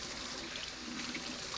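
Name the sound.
greens being rinsed under running tap water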